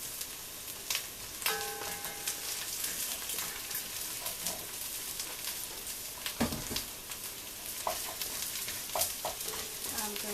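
Coconut paste sizzles as it melts in a pan for a pineapple and palm sugar curry, a quiet continuous frying hiss broken by occasional spoon scrapes and clinks, close and alone.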